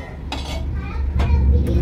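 A metal lid set onto a cooking pot of simmering curry, with a couple of short clanks and scrapes of metal on metal over a low background rumble.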